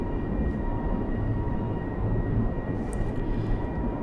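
A ScotRail Class 385 express on the Edinburgh to Glasgow line accelerating toward its 100 mph top speed: a loud, continuous interior rumble and roar with no breaks.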